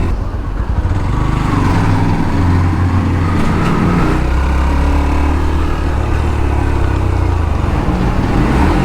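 A Yamaha FZ-X motorcycle engine runs loud and close, a steady throbbing rumble with slight fluctuations in pitch, sustained throughout with no talk.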